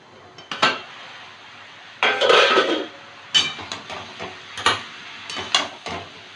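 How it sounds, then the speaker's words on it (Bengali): A metal lid is lifted off a pan of snake gourd cooking with egg, giving a burst of clanging and clattering, then a few sharper clinks of cookware spaced over the following seconds, close by with no talk. "5 মিনিট পরে ঢাকনাটা তুলে নিচ্ছি।"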